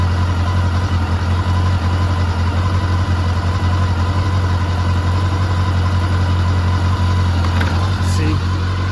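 Engine of a 1989 Honda CB1 motorcycle running with one cylinder just firing, a loud, steady low idle hum that holds evenly throughout, with a brief rattle near the end.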